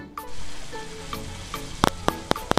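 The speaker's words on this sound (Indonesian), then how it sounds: "masukkan bumbu halusnya, lalu ditumis sampai berbau harum" Ground spice paste sizzling in oil in a wok, a steady close hiss broken by spatula taps, ending in a quick run of sharp metallic strikes.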